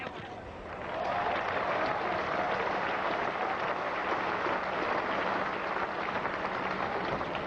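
Small crowd at Eden Park applauding a good shot during a New Zealand versus Australia test cricket match, a broad steady roar of clapping that swells after the first second and holds, with faint voices underneath.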